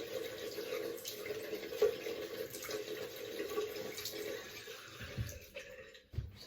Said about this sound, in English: So I just run my finger under the tap